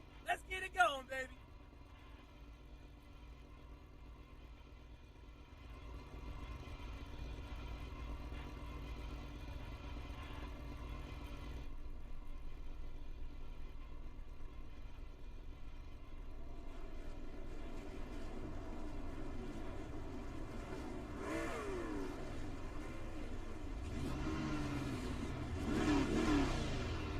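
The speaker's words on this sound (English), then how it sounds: "they're trying to rev the engines out there for you guys" Race truck engines revving at Daytona in the iRacing sim, a faint steady drone that slowly builds and rises in pitch toward the end as revs climb, mostly alone after a brief clatter at the start.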